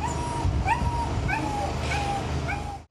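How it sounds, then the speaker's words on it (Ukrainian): Small dog shut inside a closed car whimpering and yelping, a string of high, rising whines repeated about every half second, loud and close with a muffled interior hum beneath. "Маленький песик, якого залишили в машині, несамовито скавулів у закритій пастці."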